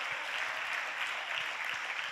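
A church congregation claps along during a Portuguese-language sermon on First Corinthians, a steady even patter of many hands filling the room at a moderate, slightly distant level.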